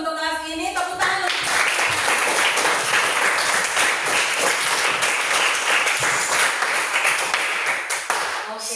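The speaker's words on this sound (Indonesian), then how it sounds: "Tepuk tangan." Classroom applause from a group of schoolchildren, brisk, close clapping that starts after a brief tone and continues steadily, with a few voices underneath.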